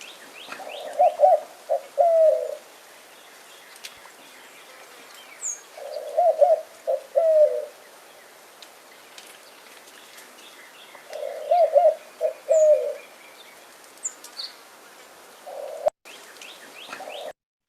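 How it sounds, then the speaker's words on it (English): Soft, rhythmic white-winged dove cooing phrases repeat three times at steady intervals, with a fainter fourth call and scattered small bird chirps in the background. "That's a classic backyard bird sound or backdoor bird sound, that of the white-winged dove"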